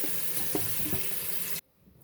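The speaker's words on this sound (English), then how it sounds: "So again, I'm rinsing it out now." Water runs from a kitchen faucet into a sink, steady and fairly loud, as a turkey is rinsed under the cool stream; the flow cuts off abruptly near the end, leaving quiet room tone.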